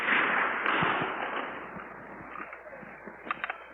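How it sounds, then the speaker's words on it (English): Sporadic gunfire across the street from a hospital during the 1967 Newark riots, heard as scattered sharp cracks and pops, some distant and some closer, over a hissy, lo-fi background with no one speaking. "Sporadic gunfire has broken out immediately across the street from the hospital."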